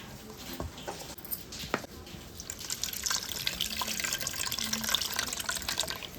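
Tamarind juice poured into a pan while cooking tomato charu, a soft continuous liquid splash and trickle, fairly quiet, building steadily over several seconds.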